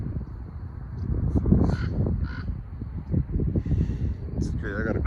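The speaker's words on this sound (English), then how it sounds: "Look at all these birds right now." Crows caw outdoors, with several short calls over about five seconds set against a steady background and ongoing chatter from people nearby.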